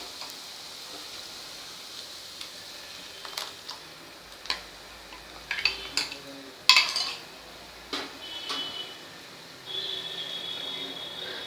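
Tomato puree and chilli powder sautéed in a pan for homemade pizza sauce, heard as scattered light clinks and taps of a spoon against cookware over a soft background hiss, close and moderately quiet.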